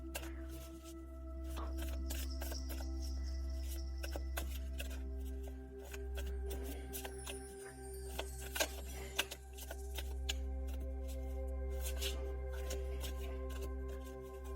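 Tarot cards are shuffled by hand for a pick-a-card reading, a faint, quiet series of soft riffling clicks and flutters over a low steady hum, with no talking.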